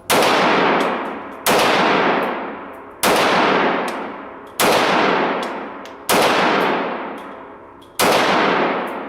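Six sharp, loud shots from a Tokyo Marui FN5-7 gas blowback airsoft pistol, each a crisp crack with a metallic slide clack, evenly spaced about one and a half seconds apart, with no talking.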